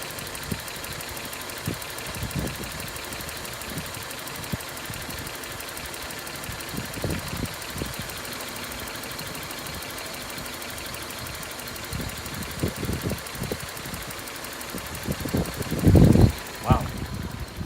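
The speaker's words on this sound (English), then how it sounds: "And now it's just at idle speed." A 1995 Geo Prizm engine sits at idle during a vacuum test, a steady low running hum with a louder burst near the end, under intermittent talking.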